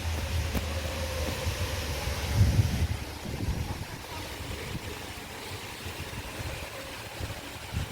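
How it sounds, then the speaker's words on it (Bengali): Light wind blowing outdoors at dusk near an apartment building, a soft continuous rumbling rush with gusty buffeting on the microphone, strongest in a brief gust early on, then settling lower. "তবে খুব জোরে হাওয়া তা নয় মোটামুটি হাওয়াটা হচ্ছে হালকা হালকা"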